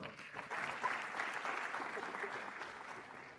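Applause from the audience at a medical college white coat ceremony swells into a sustained, dense wash of clapping from a large crowd, heard at some distance and steady throughout.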